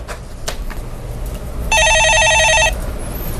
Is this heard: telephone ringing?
yes